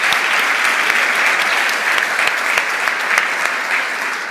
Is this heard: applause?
yes